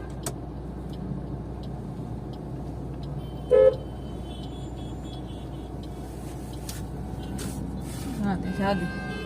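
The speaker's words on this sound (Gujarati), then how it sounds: "ટેમ્પો આવે છે" A tempo vehicle approaches on a road, its engine running under ambient noise while a single short horn toot sounds midway, with people talking nearby.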